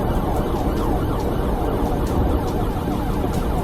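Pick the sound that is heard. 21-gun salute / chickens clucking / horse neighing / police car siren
police car siren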